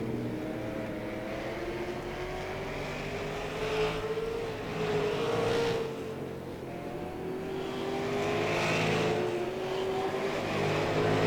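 Late model race cars lap Langley Speedway, engines droning and rising in pitch as the cars pass through the turns, swelling louder and fading in waves at a moderate distance.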